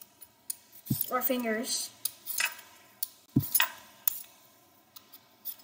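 A potato is peeled by hand in a kitchen, with sharp scraping strokes and light clicks of the peeler at irregular intervals, close by, while a person briefly speaks.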